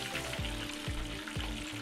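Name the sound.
battered fish meat frying in oil a second time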